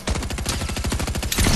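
Heavy shotgun in Fortnite Battle Royale blasting loud and close in a rapid, steady string of shots, roughly ten per second, almost continuous with no talk.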